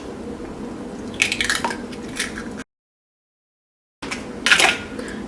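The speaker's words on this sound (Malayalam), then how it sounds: "ഈ പാത്രത്തിലേക്ക് മുട്ട ചേർക്കാം." An egg goes into a bowl with a few soft, close knocks and wet drips, followed by a short silent gap and then another brief clink and splash.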